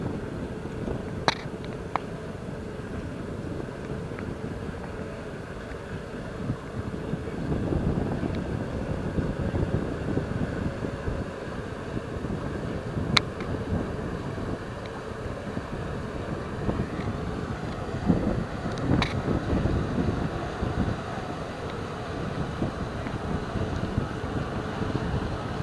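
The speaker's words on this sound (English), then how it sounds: "Here comes the boat." A ferry engine drones steadily in the distance as it approaches, a low rumbling hum that swells slightly midway, with occasional faint clicks and wind on the mic.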